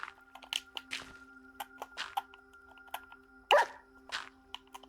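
A dog in the Minecraft video game gives a few short barks and whimpers, one sharper yelp standing out, over a quiet humming background.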